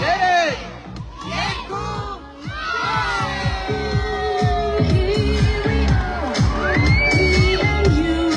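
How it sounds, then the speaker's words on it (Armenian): A crowd at a Christmas tree lighting in Aparan cheers loudly, with whoops, shouts and clapping building into a sustained, close roar of many voices. "Եկեք ևս մեկ անգամ բարձր ծափահարենք միասին"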